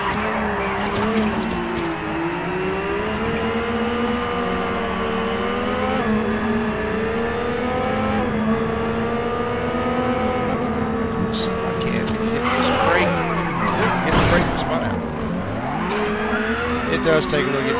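Touring cars race in a video game. A constant, near engine drone rises and falls with the gear changes, and bursts of tire squeal and skidding come toward the end.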